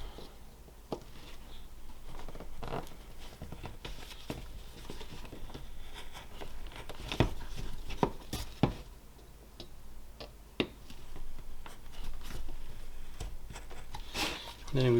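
A knife carves around a wooden Viking dwarf Santa figure, with repeated small ticking and scraping cuts spread through a steady low background, fairly close but soft.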